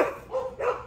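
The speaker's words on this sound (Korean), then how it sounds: "너 시끄럽게 하면 또 번개 짖는다고" Three quick, sharp barks from a Jindo dog in close succession, near and fairly loud, with no talking.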